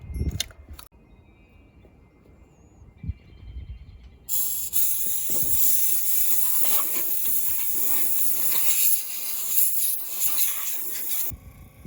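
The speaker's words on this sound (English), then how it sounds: "Probably should get the air compressor fired up and blow this crap out of here before doing too much else." A compressed-air nozzle blows debris out of a Chevy K5/K10 truck as a loud, continuous hiss that starts suddenly after some quiet handling noises and runs steadily for about seven seconds before cutting off.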